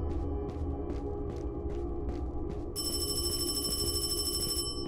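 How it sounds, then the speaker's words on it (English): Telephone ringing down in a sewer in the horror game Paranormal HK, first a pulsing ring repeating steadily, then a continuous electronic trill over a low rumbling ambience, fairly loud with no talking. "How are we hearing a phone down here?"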